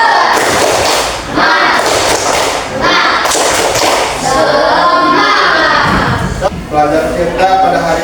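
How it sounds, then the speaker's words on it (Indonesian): A teacher leads a primary-school class in a rhythmic 'tepuk semangat' cheer, a voice chanting throughout with dull, thumping claps mixed in at close range. "ayo kita tepuk semangat dulu. Tepuk semangat."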